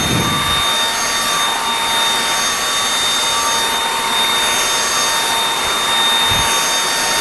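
An APOSEN cordless vacuum cleaner runs at low speed with a steady, loud, even whirring hum and airy hiss that stays unchanged from start to finish.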